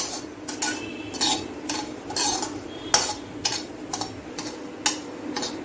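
Semolina (rava) stirred with a spoon while lightly roasting in a pan for upma, kept short of browning. Close, repeated scraping clinks of metal against the pan come in an uneven rhythm, with no talking.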